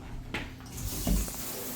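Water runs steadily from a newly installed shower head in a house bathroom, a broad spray hiss that holds through the short stretch with a few small knocks, moderately close and alone.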